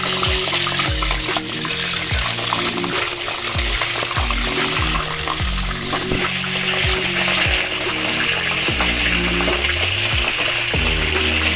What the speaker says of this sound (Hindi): अब हम इसमें मीट डालेंगे फ्राई करने के लिए।